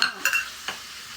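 Paneer is added to palak masala and stirred, giving a soft sizzle with a few brief spoon clinks near the start and one more scrape; the sound is short, quiet and without talk.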